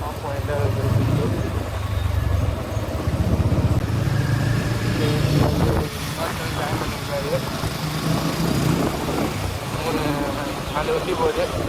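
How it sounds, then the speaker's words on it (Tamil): A group of motorcycles rides together on a road, including a Hero Xpulse, Royal Enfield Himalayan, Honda and TVS Apache RTR, their engines droning steadily with wind rush and someone talking throughout. "4 வண்டி போகுது. ஃபஸ்ட்டில் போகிறது எக்ஸ்பல்ஸு, இது வந்து ஹிமாலயனு, இது வந்து ஹோண்டா ஐனஸ், நான் வந்து ஆர்டிஆர் அப்பாச்சி"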